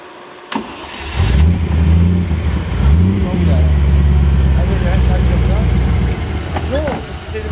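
A car engine revs and labours while reversing over rough, sloping off-road ground, its loud rumble rising and falling across the clip with a voice speaking over it.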